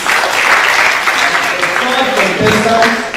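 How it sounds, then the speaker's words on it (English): Applause for students at a celebration of the International Day for Girls in ICT, a dense burst of clapping from a crowd that continues steadily for a few seconds, with a voice briefly heard toward the end. "Clap for them, please."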